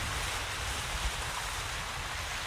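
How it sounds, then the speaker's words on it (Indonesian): Staged sound effect of big ocean waves for a kindergarten stage performance: a continuous, fairly quiet wash of surf noise with no pauses. "Ombak besar menghadang."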